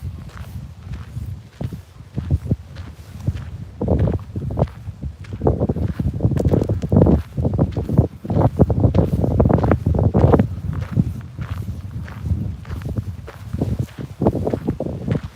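Wind buffets the microphone outdoors on Kizhi Island in Lake Onega, Karelia, as low rumbling gusts that rise and fall irregularly, with crunchy footsteps mixed in and no talk.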